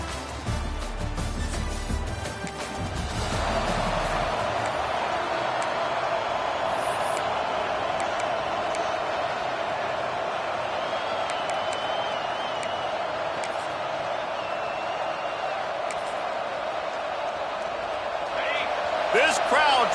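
A stadium crowd roars steadily at an American college football game against LSU, a dense, continuous wash of noise that holds through the whole stretch, with a commentator talking over it.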